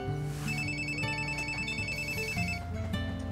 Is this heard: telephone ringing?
yes